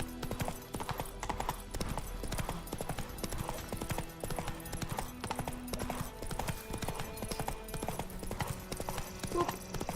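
Rapid, rhythmic clip-clop of horse hooves as Geralt's horse Roach gallops in The Witcher 3 video game, steady and close, with background music underneath.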